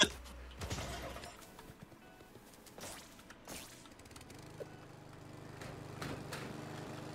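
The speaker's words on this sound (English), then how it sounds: "Baby's mowing the lawn." Lawn mower engine in the video game Who's Your Daddy, heard as a low steady drone that settles in through the second half, mixed with scattered game thumps and knocks, moderately quiet.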